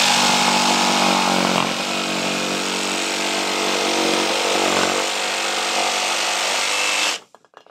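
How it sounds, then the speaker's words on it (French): A Ryobi R18JS7 cordless jigsaw cuts through a piece of MDF at maximum speed, a loud, continuous buzzing rasp that holds steady for about seven seconds before stopping abruptly. "Voyons maintenant ce que donne cette machine en commençant par les découpes d'une pièce de médium. Donc là je me mets en vitesse maximale"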